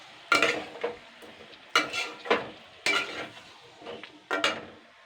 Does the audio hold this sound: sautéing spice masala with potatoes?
yes